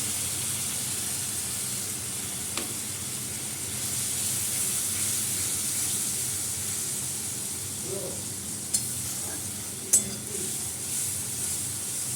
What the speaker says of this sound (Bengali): এই হলুদ গুঁড়ো, লঙ্কা গুঁড়ো দিয়ে দিলাম।